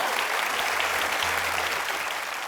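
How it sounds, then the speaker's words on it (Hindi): A studio audience on The Kapil Sharma Show applauding to welcome Vishal Bhardwaj and Rekha Bhardwaj, an even, dense wash of clapping from a large crowd that fades slightly toward the end. "आप सबकी जोरदार तालियों के बीच में इनवाइट करना चाहूंगा स्टार मियां बीवी mister Vishal Bhardwaj and Mrs Rekha Bhardwaj"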